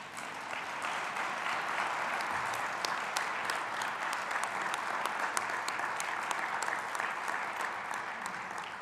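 Steady, dense applause fills a large hall as a graduation audience stands to give graduates' families a standing ovation at a community college ceremony, continuous and even throughout with no break.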